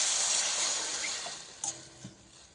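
A glass of water poured into a pan over softened green chilies while making vermicelli Maggi, a steady bright rushing splash that tapers off over a couple of seconds, close, with a couple of small clinks near the end.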